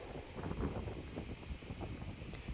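Strong gusty wind buffeting the microphone on an open golf course, a steady low roar with rising and falling gusts, no voices.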